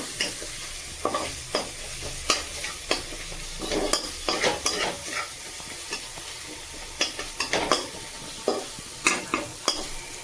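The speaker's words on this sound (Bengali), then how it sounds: "মশলাটা ভালো করে আমি কষে নিলাম যাতে কোনো গন্ধ না থাকে" Masala with tomato and turmeric sautés in a pan, with frequent clacking and scraping strokes of a spatula over a continuous frying sizzle.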